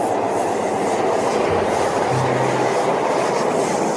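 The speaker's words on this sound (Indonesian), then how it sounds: "Ini kereta cepat." A toy high-speed train runs nonstop, giving off a dense, steady whirring rattle with a faint clickety-clack, close and even throughout, with no voices.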